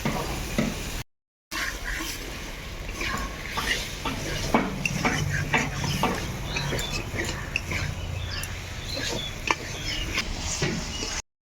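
Potatoes and eggplant fry in a pan with green chili and peas, a soft sizzle under repeated stirring scrapes and light clatter of a spatula against metal, close and fairly quiet.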